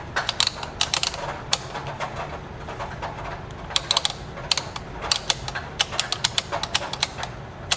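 The cam mechanism of a Brother Opus 211 knitting machine is turned by hand, producing clusters of crisp, close mechanical clicks and ticks in an uneven rhythm over a quiet background.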